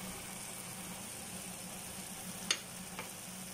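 Turmeric, chili and coriander powders are stirred into onions frying in a pan, giving a steady low sizzle with a couple of faint spoon scrapes near the end.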